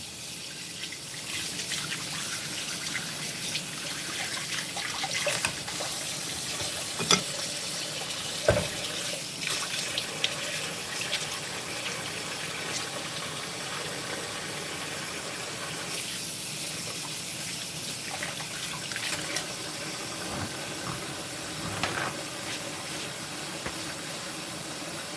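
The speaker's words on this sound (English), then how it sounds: "Wash my hands." Tap water runs steadily into a kitchen sink as hands are washed during home cooking, a continuous close hiss and splash with occasional louder knocks and splatters.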